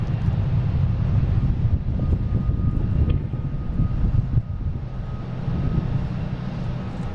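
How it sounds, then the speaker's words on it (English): A JetBlue Airbus A321 arriving from Aruba at Boston Logan, a steady broadband engine roar that holds at an even level throughout, with low rumble dominating and no voices. "We got a JetBlue coming in from Aruba, an A321."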